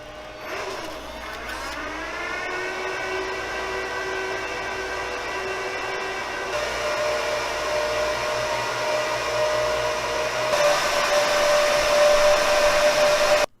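An Apple Xserve rack server powers on, its fans spinning up with a rising whine that settles into a loud, steady, close blowing roar with sustained high tones, stepping up in intensity before cutting off abruptly at the end.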